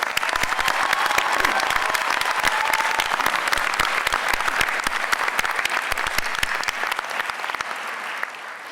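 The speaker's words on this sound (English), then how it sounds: "Please give them and give yourselves a big round of applause." Audience at a commencement ceremony applauding, a dense steady roar of many hands clapping that continues throughout and tapers slightly at the end.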